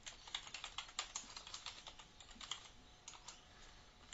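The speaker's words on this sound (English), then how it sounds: "If you simply type a new name over that, it'll appear" Someone types a folder name on a computer keyboard, a quick run of light plastic key clicks with an uneven rhythm, close and fairly quiet with no voices.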